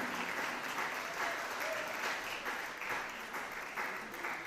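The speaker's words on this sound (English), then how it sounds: "Please join me in giving a loud round of applause to DYBT's Mentor of the Year, Ms. Junella Trotman." An audience at a graduation and awards ceremony gives steady, fairly distant applause for a mentor of the year award, even clapping with a faint voice briefly underneath.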